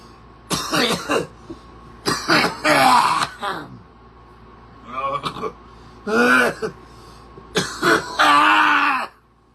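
Several harsh coughs and throat-clearing bursts come in clusters, loud and close, with short pauses between them.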